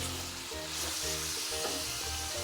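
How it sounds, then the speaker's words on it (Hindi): Chicken pieces fry in oil in a karahi, giving a dense continuous sizzle with a low hum beneath and occasional light crackles, heard close up without talk. "ऑयल में फ्राई कर लेंगे।"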